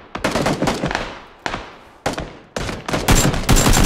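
Loud bursts of video game gunfire hit in quick succession, with several sharp volleys separated by short gaps and then a dense, rapid stretch of automatic fire near the end.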